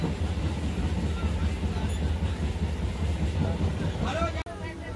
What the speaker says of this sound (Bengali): ধীরে ধীরে ট্রেনের চাকা গড়াতে থাকলো তার নিজের পাটিতে